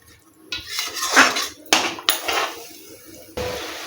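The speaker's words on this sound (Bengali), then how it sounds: "জলটা দিয়ে দিয়েছি, খুব ভালো করে কষিয়ে নেব" Spice masala with strained mustard-poppy water being stirred in a metal pan, loud clanks and scrapes of a ladle against the pan in a few separate bursts between quieter moments, no voices.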